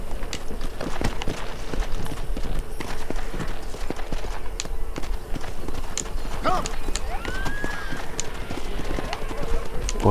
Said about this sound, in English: Mira, el caballo de guerra, es verdad.